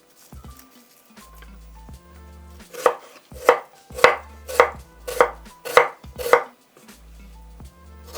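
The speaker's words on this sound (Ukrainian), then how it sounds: "треба нарізати на смужки" A knife chops an onion into strips on a cutting board, about seven crisp, evenly spaced thuds in a row, close and clear after a few softer taps.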